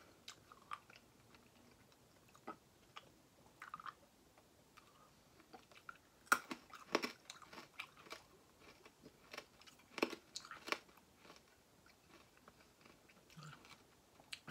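Someone chewing Toxic Waste sour candy close to the mic, with irregular bursts of crunchy bites and wet mouth clicks between quieter pauses, no talking.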